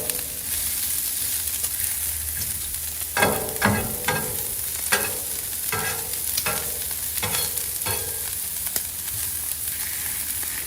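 Yellow onions sizzle steadily on a Blackstone griddle under a constant frying hiss, with a run of sharp, irregular scraping and stirring strokes from a spatula in the middle section. No one speaks.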